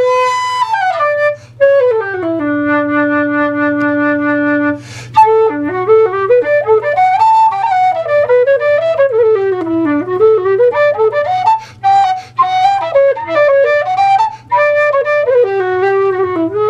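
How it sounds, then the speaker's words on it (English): A newly made wooden whistle being test-played, clear tonal notes running through held tones, stepped runs and quick melodic phrases, close and loud with no talking. "and then we test the whistle"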